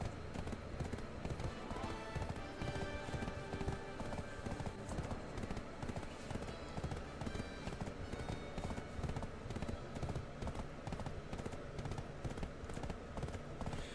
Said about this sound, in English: while our horse is riding around